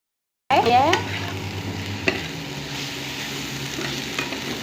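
Food frying in a pan with a steady, close sizzle and occasional stirring scrapes, loud at first and then settling into an even hiss, with no talking.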